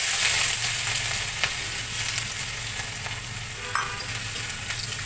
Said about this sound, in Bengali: ফোড়নের সঙ্গে আদা একটু লাল লাল করে ভেজে নেব।